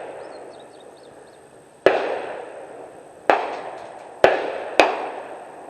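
Four loud, sharp rifle shots at an outdoor shooting range, fired while sighting in a rifle with a repositioned scope; each crack stands alone with a ringing tail, irregularly spaced over several seconds.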